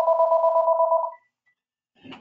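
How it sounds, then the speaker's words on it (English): A telephone ringing during a building-engineering webinar: a single electronic warbling ring about a second long, close and clear, followed by silence and a short faint noise. "Apologize for ringing devices."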